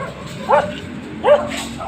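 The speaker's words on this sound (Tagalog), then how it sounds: "may aso" A caged dog barks twice, two short, fairly close yips with a steady low background hum between them.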